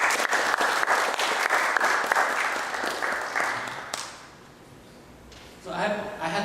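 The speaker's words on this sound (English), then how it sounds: "let's give a round of applause to San Diego Java User Group, Paul, the team" Conference audience applause rings out for several seconds in a hall, a dense burst of clapping that fades away before a speaker's voice begins.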